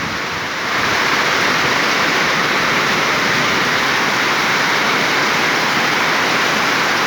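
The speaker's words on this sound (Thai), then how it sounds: "ทั้งฝนทั้งลมเลยครับ" Heavy storm rain and wind in Phang Khon, Sakon Nakhon, Thailand, a dense steady roar that swells in the first second, then holds loud and unbroken, with no voices.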